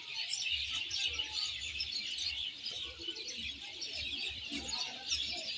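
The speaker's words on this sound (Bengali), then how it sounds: "ওপরে ছাড়া আছে, এই যে পায়রা" Madras pigeons kept for sale, soft low cooing pulses repeating through the clip alongside a bright, continuous chirping and rustling backdrop, with no voices.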